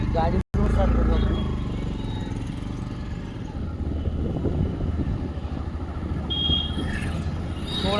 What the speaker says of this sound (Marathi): गाडी स्टार्ट करू आपण